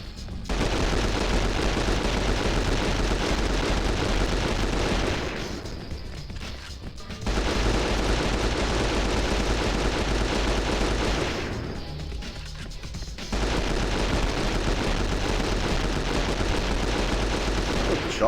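Gunfire from a shotgun in a video game plays as dense, loud continuous bursts of blasts and crashes. Two short lulls break the noise.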